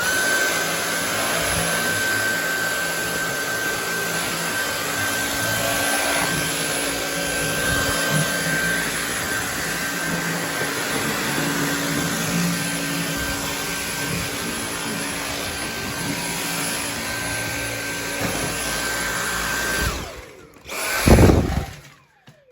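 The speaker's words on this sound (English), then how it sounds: "I decided to treat myself to one of these DYSON stick vacs." A Dyson cordless stick vacuum runs steadily with a high whine and constant hum for a long stretch, then cuts off with a few clunks at the end.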